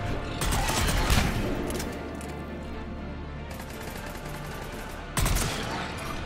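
Gunfire from a squadmate's weapon in the sci-fi shooter Mass Effect 3, dense rapid bursts at the start and again near the end over a steady battle din, with no talking.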